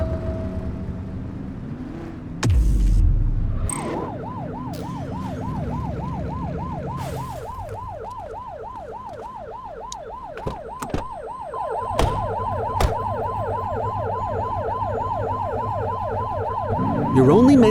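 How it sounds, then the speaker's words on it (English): A police car siren in The Precinct wails in fast, even cycles for over ten seconds over a low engine hum, with clicks and thumps scattered through. "You're only meant to use the siren in emergencies."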